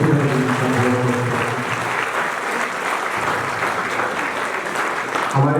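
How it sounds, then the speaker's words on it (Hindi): Loud, sustained applause from an audience at a Mahashivratri celebration gathering, dense clapping continuing steadily throughout with a brief swell near the end. "एक बार जोरदार तालियों से"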